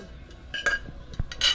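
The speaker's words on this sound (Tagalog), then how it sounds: "Itinaob na ho, ang kaldero." A metal cooking pot is turned over, giving a few light clinks and scrapes of metal followed by a single dull thud, all close by.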